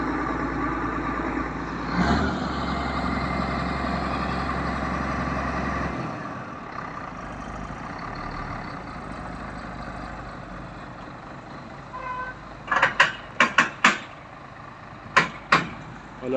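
Fairground trucks, including a food truck, arrive on the Cours Saint-Pierre in Nantes. Heavy engines rumble and idle steadily at close range, then quieter traffic follows, with a few sharp clanks and clicks near the end.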